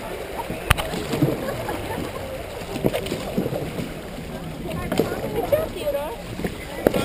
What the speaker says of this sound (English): Keep paddling, folks.